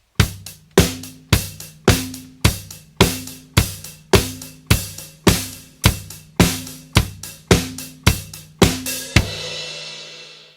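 A drum kit plays a steady groove in a lesson setting: a four-on-the-floor kick on every quarter note with a snare on the backbeats, a struck hit about every half second, ringing out alone with a cymbal decay at the end.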